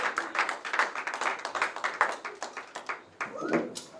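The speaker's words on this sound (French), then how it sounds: "Est-ce qu'on peut applaudir pour le groupe d'adoration?" Steady handclapping from a church congregation applauding its worship group: dense, moderately loud claps that keep going throughout, with voices mixed in.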